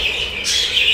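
Budgerigar chicks in a bird room give short, high chirps, close and clear, with a brighter burst of tweeting in the second half.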